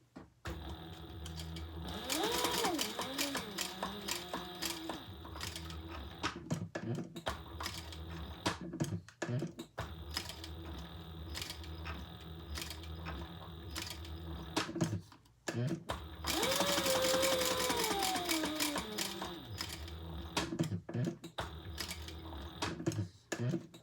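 A sewing machine stitching a leather sling bag runs in two long bursts of rapid mechanical chatter, with short pauses between, while a person talks quietly in the background.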